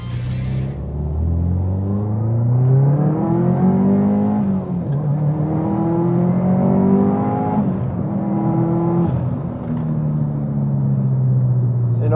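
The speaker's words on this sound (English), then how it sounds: "Do a little wide open throttle stuff here and see how the car goes." Subaru STI built by COBB Tuning pulling hard at wide open throttle up a highway on-ramp, the engine note climbing through several rising sweeps as it runs through the gears, loud and close from inside the car.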